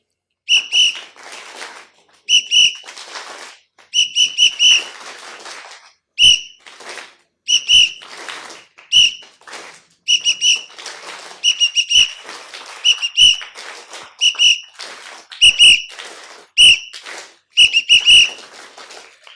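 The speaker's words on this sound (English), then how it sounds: "So I'll do whistle, listen, clap." Repeated bursts of loud, shrill whistling from a person doing a listening exercise, short phrases of several notes separated by brief pauses, with occasional faint sharp taps between them, and no speech.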